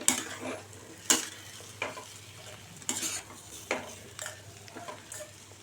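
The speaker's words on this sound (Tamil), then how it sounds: "கொஞ்சம் அப்படியே தேங்காய் துருவல் சேர்த்து ஒரு 2 நிமிஷம் அப்படியே பெரட்டி எடுத்துடலாம்" Potato stir-fry with grated coconut being stirred and turned in a hot pan, with regular scraping strokes about every second over a low sizzle, close and clear with no voices.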